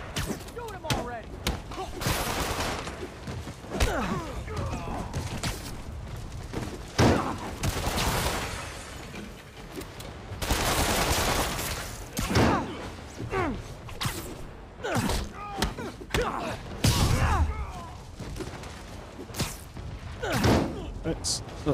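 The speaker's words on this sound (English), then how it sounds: "Shoot him already." Video game gunfire crackles in irregular bursts of sharp shots and heavy thuds, loud and close, interleaved with whooshes and scuffling action sounds, with occasional game voices between.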